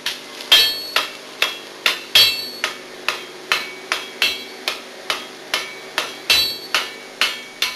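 Steady hammer blows on heated cast iron, about two per second, each a sharp metallic ring with a brief decay, repeating evenly and close with no talk.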